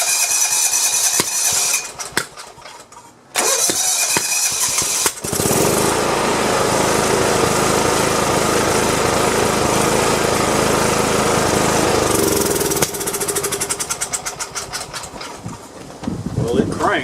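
Kawasaki FC420V engine on a John Deere 170 lawn tractor: rhythmic starter cranking, then a loud roaring run for about seven seconds before it sputters and quits, followed by more cranking, with a voice speaking at times.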